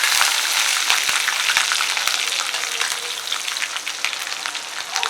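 Mustard seeds and green chillies sizzle in hot oil, a steady crackling fry with scattered sharp pops from the seeds, close and fairly loud, with no voices.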